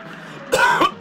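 A single close cough straight into a microphone, a short harsh burst in two quick pulses, loud against a quiet background.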